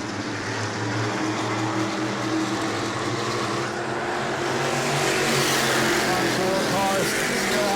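602 Modified race cars roaring around New Smyrna Speedway, a loud sustained engine drone that swells as the pack passes close, under a commentator's voice.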